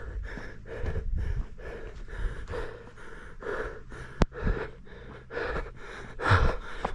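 Heavy rhythmic panting of a runner on a hilly 10 km run, quick close-up breaths repeating in steady bursts with a few sharper gasps, no talking.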